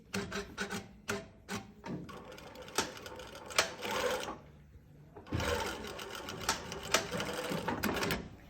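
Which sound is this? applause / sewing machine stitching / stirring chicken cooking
sewing machine stitching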